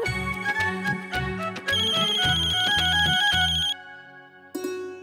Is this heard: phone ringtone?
yes